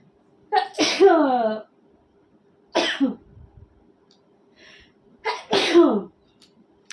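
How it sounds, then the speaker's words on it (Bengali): Several sneezes come at close range from a woman in her home after she scrubs kitchen pans. There is one strong sneeze, a shorter one, then a third loud burst, each separated by quiet gaps. "হাঁচি আসছে"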